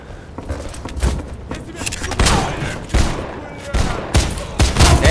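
Repeated gunfire bursts in a shootout from the 2009 video game Wanted: Weapons of Fate, loud sharp shots and rattling volleys coming in uneven clusters, with voices talking at times beneath the firing.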